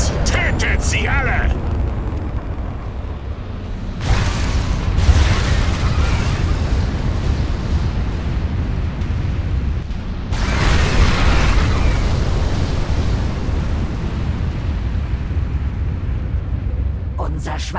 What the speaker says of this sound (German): Unser Schwarmcluster hat die Explosion gerade so überstanden